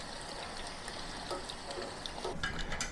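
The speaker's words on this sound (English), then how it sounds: "deep frying is a very quick process" Steady hissing sizzle of eggplant deep frying in hot oil, continuous and fairly close, with faint crackles and no talking.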